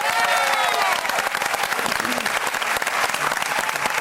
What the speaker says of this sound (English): can we have a round of applause for Yalla?